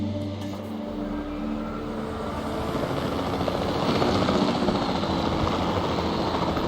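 A helicopter in Jurassic World Evolution 2 drones steadily with a dense rotor and engine roar that swells slightly louder partway through and holds at a constant level.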